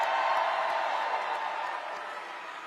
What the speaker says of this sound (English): how about another round of applause for our great Vice President?